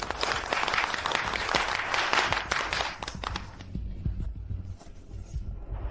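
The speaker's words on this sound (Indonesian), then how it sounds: "Berikan tepuk tangan yang meriah untuk Asosiasi Kedokteran Tradisional Tiongkok Kota Dongshan Ketua Lu" Applause for the chairman of the Dongshan City Traditional Chinese Medicine Association, loud dense clapping that thins out and fades after about three seconds, leaving scattered claps over a low hum.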